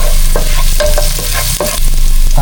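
Chopped ginger and garlic sautéing in a pan, a loud steady sizzle with repeated scraping stirs of a utensil, alone without voices.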